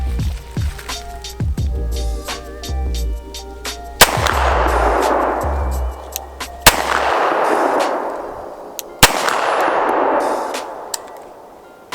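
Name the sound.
Archon Type-B handgun shots at long range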